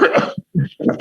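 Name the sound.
cough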